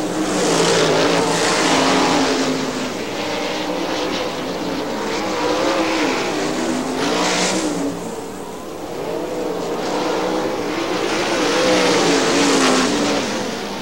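410 sprint race cars roar around Butler Motor Speedway, a loud, continuous engine drone that swells and fades as the cars pass and accelerate, with no voices heard.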